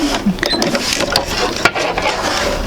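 Sewing machine stitching two stacked quilt fabric pieces toward the center for an intermediate sampler quilt, a close, steady mechanical whir with a rapid needle chatter running throughout.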